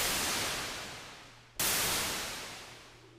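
Synthesized white noise produced in Reason music software, a steady full-band hiss that fades slowly, cuts out briefly mid-way and restarts at full level before fading again, with no one speaking.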